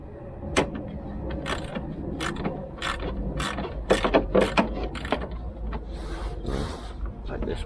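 A ratchet clicks in quick bursts as bolts are backed out of a 1983 Honda Stream NV50 scooter. Several close, crisp runs of ratcheting are separated by brief pauses, with soft metallic handling and faint talking.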